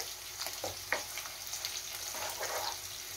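Spice masala with yogurt and kasuri methi frying in a pan for dahi aloo, a steady close sizzle with a few brief stirring scrapes and no talk.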